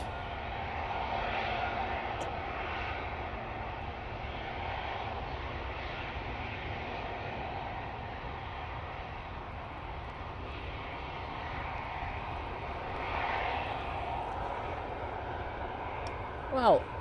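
Ryanair airliner arriving from Cork at Manchester Airport on a windy day, a faint steady jet engine rumble with gusty wind noise throughout, under a voice talking.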